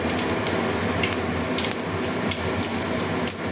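Cumin seeds frying in a pan for a Bengali doi potol dish, a steady dense sizzle running without pause at close range, with a few brighter crackles and pops over the hiss.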